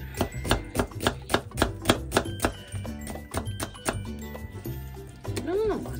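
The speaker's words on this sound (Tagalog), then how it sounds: "naghihiwa na tayo nating sibuyas" Knife chopping onion on a board in a home kitchen while making curry, a run of about a dozen sharp, evenly spaced chops over music or background tone, tapering off toward the end.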